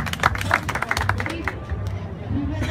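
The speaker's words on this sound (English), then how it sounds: "Please give him a clap." A room of people clapping for a man who has just stepped up to speak, uneven claps mixed with chatter and murmuring voices, fading off toward the end.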